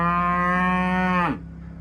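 Cattle on a desert ranch let out a single loud, close moo that holds steady for over a second and then drops off sharply, leaving quiet ambient noise.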